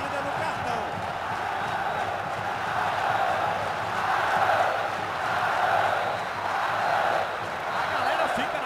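Packed football stadium crowd at the 2014 Copa do Nordeste final, Sport versus Ceará, roaring in protest at the referee in swelling waves of chanting and shouting, with commentators talking over it.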